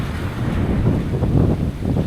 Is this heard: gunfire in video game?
no